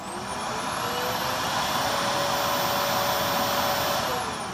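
An AEG Ultracaptic deluxe vacuum cleaner runs lifted off the floor, giving a steady, close, airy whine with a high motor tone throughout, without speech.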